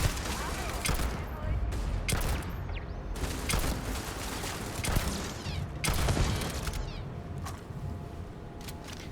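Automatic turret gunfire in the video game Starfield, dense rapid bursts of shots spread through the whole stretch under game sounds and a voice, fairly steady and moderately loud.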